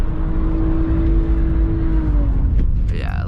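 A BMW E46 with a louder modified exhaust spins one wheel on concrete: a loud, steady engine roar with a rising, squealing edge near the end. A brief voice is heard at the close.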